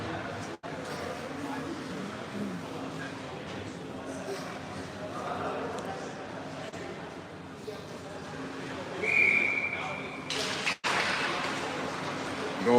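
Referee whistle at a high school hockey tournament game, a single sharp shrill blast rising out of steady rink crowd noise and arena murmur, moderately loud.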